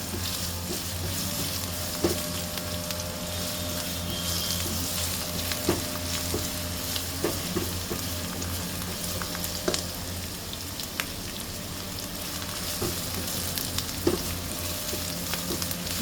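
Onions sautéing in a pan for palak paneer, a steady, moderate sizzle that runs throughout, with periodic light clicks and scrapes as the spatula stirs.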